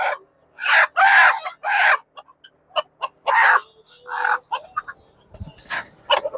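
A silkie chicken clucks and crows close by in a string of short, loud, separate bursts with brief gaps between them.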